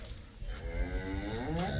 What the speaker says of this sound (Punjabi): ਟੋਕੜਾ ਗੱਬਣਾ ਵੀ ਗਾਵਾਂ ਤੁਹਾਨੂੰ ਦਿਖਾਉਣੀਆਂ ਚੰਗੇ ਦੁੱਧ ਵਾਲੀਆਂ